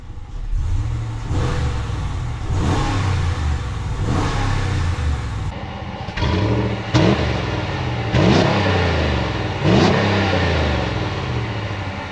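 A Ram 1500 Classic pickup with a 5.7 liter HEMI V8 revs loudly and close by. About half a dozen throttle blips rise and fall in a repeating pattern, separated by a rumbling idle.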